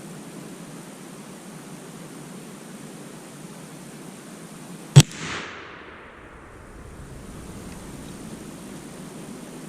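A single sharp blast from a Thompson Center Seneca .36 muzzleloader loaded with Schuetzen black powder, fired outdoors over steady background hiss, with a short rumbling echo trailing off afterward.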